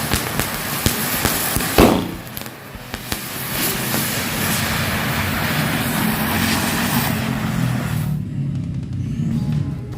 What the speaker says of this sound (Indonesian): ini kita nyalakan 1 pak mercon gangsing